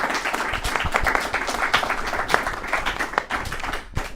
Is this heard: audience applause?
yes